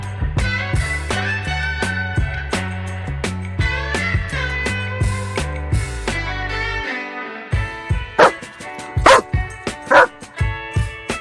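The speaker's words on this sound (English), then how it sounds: "Dog," A dog barks several times in sharp, separate bursts, loud and close, once a stretch of music fades out.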